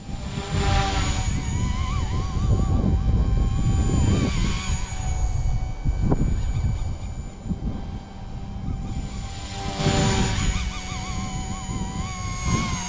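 A small XK K130 RC helicopter in fast forward flight, its high whining motor and rotor buzz rising and falling as it makes passes near and away, with no talk.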